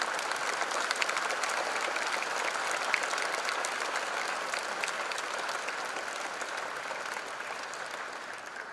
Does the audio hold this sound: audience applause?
yes